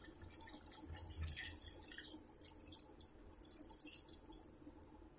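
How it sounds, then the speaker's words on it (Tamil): Water pours and splashes into a cooking pot, a soft steady trickle with a couple of louder gushes, close by and with no talking. "இப்போ நான் இதில் தண்ணி ஊற்றிக்கிறேன்"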